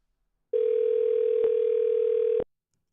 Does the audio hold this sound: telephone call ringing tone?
yes